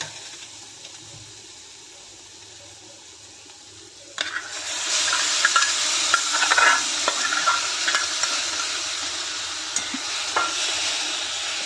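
A spoon stirs cooked ambadi greens with dal, rice and peanuts in a pan, starting quiet, then a louder steady scraping and sizzle takes over partway through, with no talking.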